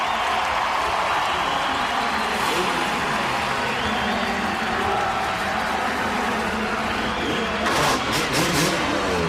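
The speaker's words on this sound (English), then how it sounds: "Listen to the fans getting behind him." Crowd of fans cheering at an X Games dirt bike step-up event, a dense continuous roar of a large outdoor audience with engine noise mixed in and a brief louder swell near the end.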